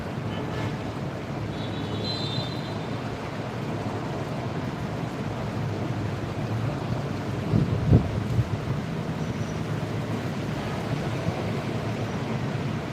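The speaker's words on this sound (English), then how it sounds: "You got the ocean roaring off in the distance, you know. Waves crashing in." Ocean surf roars steadily in the distance with wind blowing across the microphone, a constant broadband wash of waves lasting throughout with no talking.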